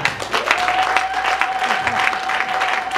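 A church congregation breaks into sustained applause, a dense wash of clapping that holds steady throughout, with a faint high tone running underneath.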